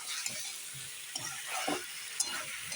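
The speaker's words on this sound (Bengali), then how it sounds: "মশলার সাথে ফুলকপিগুলো একটু কষিয়ে নিচ্ছি হালকা" Cauliflower florets sautéing with spices in a pan, a soft continuous sizzle with faint scraping stirs and small clinks, fairly quiet and close, no talking.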